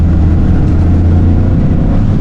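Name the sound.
Toyota GR Corolla engine revving under throttle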